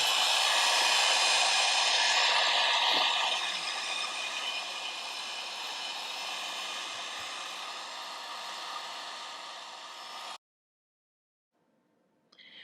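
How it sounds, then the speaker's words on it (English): Heat gun blowing on a porcelain clay cup, a loud steady airy roar that eases slightly as it moves, runs for about ten seconds, then cuts off abruptly into near silence. "I'm going to zap it with a heat gun to dry it out just a little bit"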